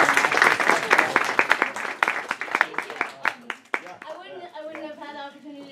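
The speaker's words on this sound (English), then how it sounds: "So if you could give her another round of applause." An audience claps in a brisk, dense round of applause that thins out after a few seconds as a voice starts speaking.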